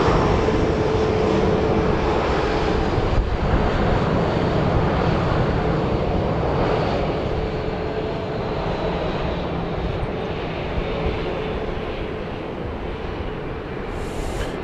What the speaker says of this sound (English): this is a 737-700 and it's operated by Southwest Airlines